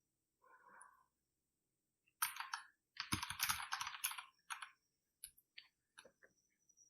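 Quick bursts of typing on a computer keyboard, close and fairly quiet, clustered keystrokes with short pauses, a single faint tap or two before the main run.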